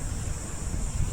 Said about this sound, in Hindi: देखो हवा चल गई, ठंडी हवा चल रही